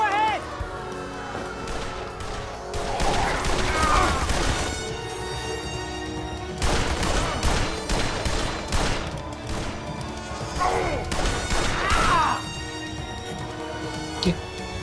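Gunfire in the video game Blues and Bullets: dense bursts of shots and crashing impacts come in waves over a low game soundtrack, with someone talking over the action.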